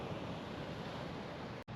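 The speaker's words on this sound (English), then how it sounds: "The waves were massive though, and only very experienced surfers were allowed to go out there." Ocean waves breaking on a Hawaii beach make a steady, loud, broadband rush of surf blended with wind buffeting the microphone, continuous throughout and cut by a brief dropout near the end.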